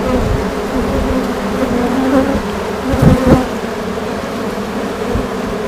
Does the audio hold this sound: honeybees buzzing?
yes